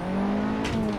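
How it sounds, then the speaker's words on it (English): KTM X-Bow R in Assetto Corsa, its engine droning steadily up close as a gear is roughly jammed in, with a brief harsh crunch partway through and no talking. "whoops, I just jammed that into gear"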